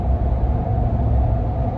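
Nitto Recon Grappler AT all-terrain tires on a truck at about 69 mph, giving a steady broadband road roar with a low rumbling drone and a faint sustained whine, continuous and fairly loud with no talk.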